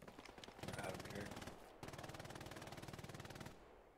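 Rapid automatic gunfire from the Hell Let Loose war game sounds in two long sustained bursts with a short break between them, dense and steady, and indistinct activity comes before the shooting.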